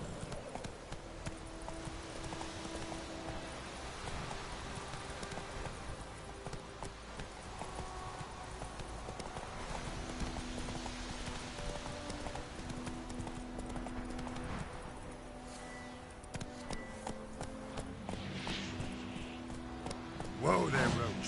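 Roach, the horse in The Witcher 3, plods along with steady clip-clopping hooves, the rhythmic steps sitting under continuous game music and ambience, with a voice talking at times.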